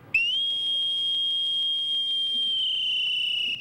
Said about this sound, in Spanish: El silbido de marinero anunciaba que llegaba el momento de la despedida.